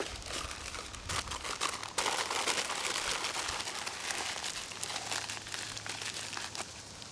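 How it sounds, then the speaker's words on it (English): A sheet of wax paper crinkles and crumples in the hands, a close, dense crackling that pauses briefly and then resumes steadily. "You can just tear off a sheet, crumble it up, and it's ready to go in your fire"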